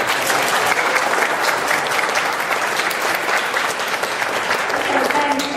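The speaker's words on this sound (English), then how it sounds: "Can I have a clap from you all?" Audience applause at a TRC 2015 presentation, a continuous, dense clatter of many hands clapping at fairly loud level throughout, with light crowd murmur beneath.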